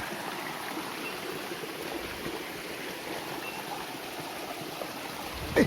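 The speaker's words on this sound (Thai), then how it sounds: "มีน้ำตก" Steady broadband rush of flowing water, like a stream or small waterfall nearby, continuous and even throughout.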